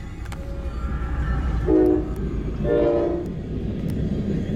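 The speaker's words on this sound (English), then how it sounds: "It's a freight train." A freight train rumbles past close by while its horn sounds two loud blasts, the first short and the second longer, over a continuous low rolling drone of the cars.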